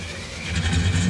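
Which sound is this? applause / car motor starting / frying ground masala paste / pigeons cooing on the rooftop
car motor starting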